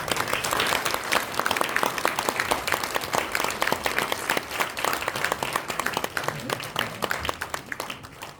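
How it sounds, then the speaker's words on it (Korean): A church congregation claps steadily at a thanksgiving service installing a senior and a lead pastor, with dense, continuous applause filling the hall for several seconds, fairly even in loudness. "우리는 박수 치겠습니다."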